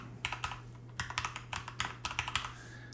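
Quick bursts of typing on a computer keyboard, close and clear, with rapid clustered keystrokes in several short runs over a faint steady hum.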